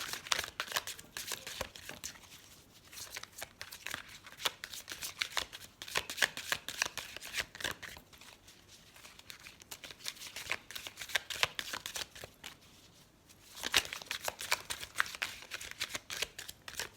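Oracle cards shuffled for a reading: dense, continuous papery rustling and flicking close up, loud throughout, with brief lulls near the middle and no speech.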